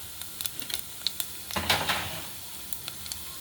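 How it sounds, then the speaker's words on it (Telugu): Cumin seeds sizzling in a pan for jeera rice, with soft crackling pops and ticks scattered throughout and one fuller burst of sizzle midway, quiet and close with no talking. "ఇప్పుడు 2 స్పూన్ల జీలకర్ర అయితే వేసేద్దాం దీంట్లో"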